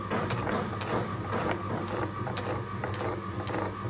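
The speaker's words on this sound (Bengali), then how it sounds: "এটা গোলমরিচ বাটছি" Whole black pepper is ground into a paste in Bengali home cooking, with loud, close rhythmic grinding strokes repeating about every half second without a break.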